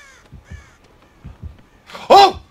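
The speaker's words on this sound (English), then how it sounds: "Stupid ass crow." A crow caws in the Dead by Daylight video game: a few soft low croaks early on, then one loud, harsh caw near the end, alone against a quiet background.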